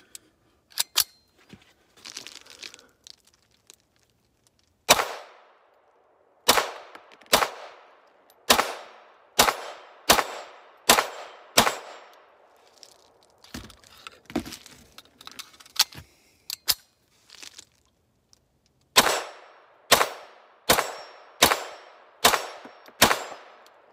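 A Norinco Olympia .22LR pistol fired from factory magazines: strings of sharp, loud individual shots in quick rhythmic bursts, separated by pauses with faint handling clicks and magazine rattles.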